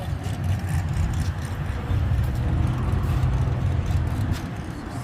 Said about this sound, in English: here come the Chevelles. They rolling in.